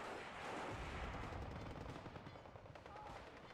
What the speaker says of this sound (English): annihilated by BAR and M1 Garand fire